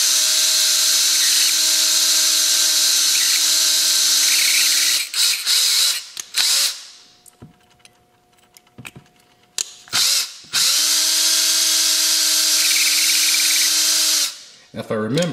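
A power drill whines steadily at high speed drilling a pilot hole for threading in a Hot Wheels '85 Camaro IROC-Z model car, stops, then runs again in a second long burst, with small clicks and handling noises in the pause.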